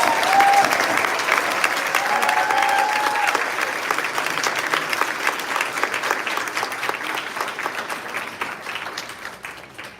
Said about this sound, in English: A big round of applause for our students.